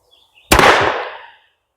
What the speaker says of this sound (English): We just tried these out of Gypsy's Smith & Wesson M&P, and they functioned perfectly out of her gun.